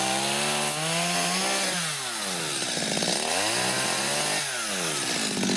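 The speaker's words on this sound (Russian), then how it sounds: "Снизу пили вот так вот. Да. Только снизу, чтобы не зажало." A chainsaw cuts up through wood from underneath during roadwork, its engine droning loud and steady with rising and falling pitch as the load changes, close by and continuous with no talk.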